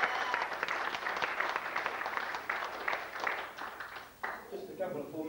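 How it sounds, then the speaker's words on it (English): A church congregation applauds a Sunday morning service, sustained clapping from a room full of people that fades after a few seconds, with a voice over it. "give them another round of applause"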